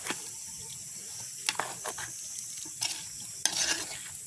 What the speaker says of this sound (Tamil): இப்படி ஒருக்கா கிண்டி விடுவோம்